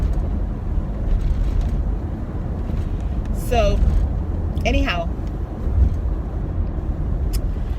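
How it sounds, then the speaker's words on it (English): Steady road traffic rumbles nearby, a continuous low wash of passing vehicles with a couple of brief higher squeals, while a person speaks briefly over it. "Good Lord, there's a lot of traffic today."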